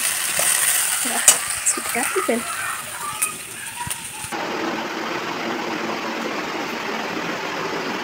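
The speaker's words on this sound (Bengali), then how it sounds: "তো এখন এই যে আলু টালু এগুলো ভাজছি, আলু, গাজর, লঙ্কা, পেঁয়াজ, রসুন।" Potatoes, carrots, chillies, onions and garlic fry in a pan with whole spices, giving a steady sizzle with scraping stirs and clinks, loud and close, then a more even hiss.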